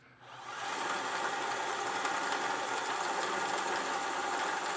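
A power drill enlarges pilot holes, working up to a 1/2 inch bit, while fitting a Blue Ox base plate to a 2024 Chevrolet Tahoe: a steady, close, continuous whir that rises quickly and holds evenly, with no talking.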